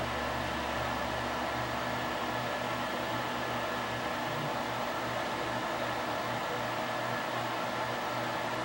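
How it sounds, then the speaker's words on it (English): An electric heater blows warm air steadily onto the circuit board of a Sony EVS3000 Hi8 VCR, a constant broadband whoosh with a low electrical hum beneath, unchanging for several seconds and with no talking. "Just throw a little bit of heat on here, just from an electric heater."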